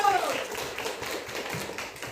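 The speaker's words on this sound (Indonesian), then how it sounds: "tepuk tangan untuk si Pero." Children in a classroom clapping, a brief burst of light, quick claps with faint voices mixed in.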